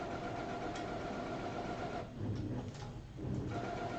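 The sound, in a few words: printer making noise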